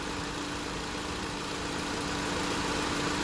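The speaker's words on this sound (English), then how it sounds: "The condenser fans are on. And the clutch kicked in." A running Honda Civic engine with the condenser fans on and the AC compressor clutch engaged, a steady broadband whirring drone close by, constant and unbroken.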